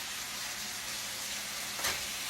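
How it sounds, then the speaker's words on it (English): Homemade spaghetti sauce cooking on high heat as it is stirred, a faint, steady sizzle with a brief scraping stir near the end, heard alone. "let me stir this around kind of too"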